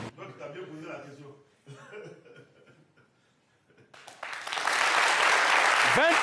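An audience bursts into loud, sustained applause after someone speaks in French with a few chuckles around him.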